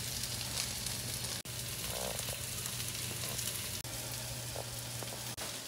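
Sausage and scrambled eggs with cheese fry in pans with a steady, close, loud sizzle, broken by a few brief sharp dropouts, with a low hum beneath.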